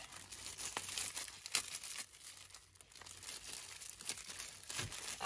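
Plastic packaging around a stuffed toy being cut open and crinkled, steady close-up rustling and crackling with sharp crinkles throughout.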